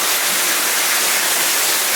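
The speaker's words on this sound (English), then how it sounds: "There's a view back of that waterfall." Steady roaring rush of a waterfall seen from inside a mine drift beneath a gold-bearing quartz vein, a dense broadband wash that holds constant throughout with no voices.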